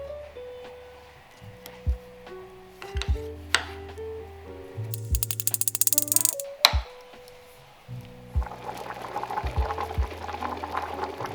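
A pot of meat, eggs and potatoes cooking in water simmers and bubbles, broken by clinks, scrapes and handling noises of the pot near the microphone, with louder bubbling toward the end.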